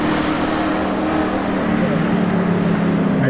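An LS-engined car at the Laurel Run hill climb races past with a continuous loud engine roar that rises in pitch, heard from a moderate distance with spectators talking over it.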